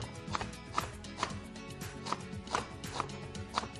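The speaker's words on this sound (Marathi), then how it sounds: "कांदाचा छानपैकी जरा बारीक चिरून घ्या." A knife finely chops onion on a board in close, steady strokes, about eight sharp taps roughly every half second over a constant background hum.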